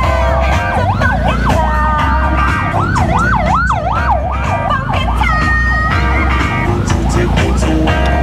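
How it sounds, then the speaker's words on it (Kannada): Ambulance siren on a street in the Philippines, loud and close, its wailing tone sweeping up and down repeatedly, with a steadier held tone near the end over a low traffic rumble. "ambulance ambulance right right right"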